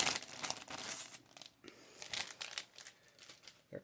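Large plastic sleeves used for mailing back graded trading cards crinkle and rustle in bursts of crisp, irregular crackling at close range, with short pauses between handling movements and no talking.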